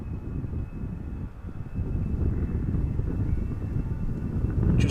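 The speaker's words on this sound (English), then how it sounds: "Looks like there's also a 777 to Beijing taxiing this way from KLM." A KLM Boeing 777 bound for Beijing taxis at Amsterdam Schiphol Airport, heard as a steady, low engine rumble at a distance that grows slightly louder toward the end, with a thin constant whine above it.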